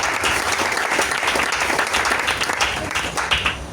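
A church congregation applauds and cheers for Jesus during a service, dense sustained clapping from many hands filling the room at close range with scattered voices mixed in.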